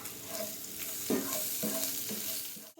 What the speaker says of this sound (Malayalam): ഇതിലേക്ക് നന്നായി ഉപ്പിട്ട് ചേർത്ത് കൊടുക്കുക. ചേർത്തിട്ടുണ്ട്, ഇളക്കി കൊടുക്കുക.